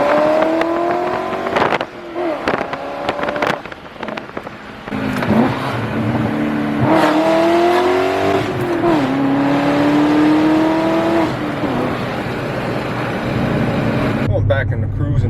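A 2020 BMW M340i accelerates hard through the gears, engine revs climbing in repeated rising sweeps that cut off at each shift, heard from inside the car with a person talking over it.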